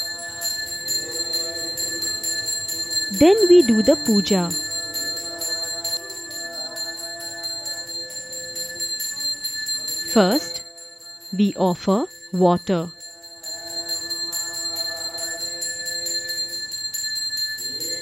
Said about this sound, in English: By ringing the bell, we declare that we are now only thinking of the God.